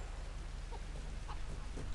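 Chicken clucking in the Tomb Raider video game on PS3, a few short clucks over a steady low in-game background hum, fairly faint.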